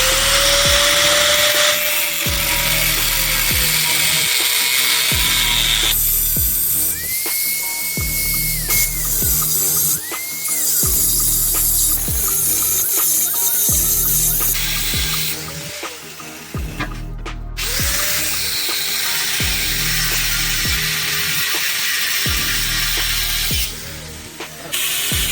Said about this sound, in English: To cut this pipe I am using a angle grinder.